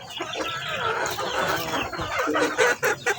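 Chickens cluck busily up close, mixed with higher peeping from chicks, in a lively, continuous chatter.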